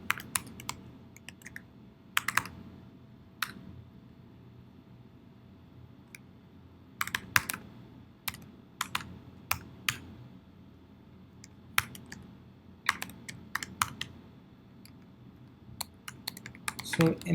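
Computer keyboard keys clatter as code is typed, coming in irregular bursts of quick clicks separated by short pauses, close and fairly crisp over a low steady room hum.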